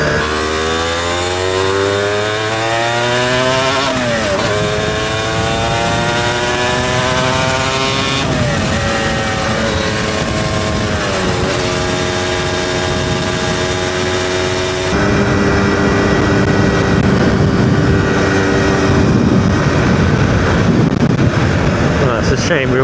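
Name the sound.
motorcycle engine braking while riding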